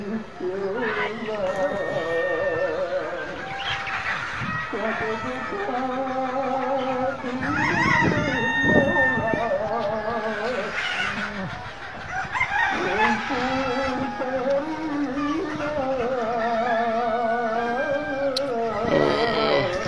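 A flock of layer hens at a farm in Kuakata keeps up steady clucking and crowing calls, loud and close, while someone talks over the birds for much of the time.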